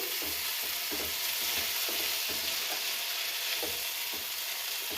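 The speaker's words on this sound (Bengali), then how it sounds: "দেখুন আমার ভাজা ভাজা হয়ে এসছে মশলা শুদ্ধ" Chicken fries with spices in a pan, a steady, close crackling sizzle broken by soft rhythmic stirring scrapes, with no talking.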